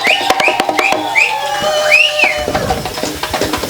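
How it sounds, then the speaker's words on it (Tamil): Men at a Tamil village temple festival dance whistle loudly in short rising blasts, with scattered claps and cheering noise close by. "ஆண்கள் எல்லாம் விசில் எடுத்து கை தட்டி ஆரவாரப்படுத்து."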